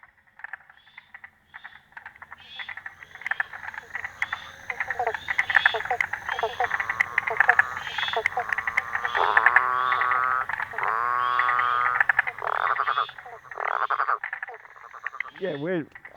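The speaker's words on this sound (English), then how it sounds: "The noise from the happy frogs and the birds and everything is just, yeah, it's just pure joy" Frogs croak in a chorus from a restored farm wetland built for drought resilience, with dense overlapping calls rising and falling over a steady background for most of the stretch, and some birds mixed in.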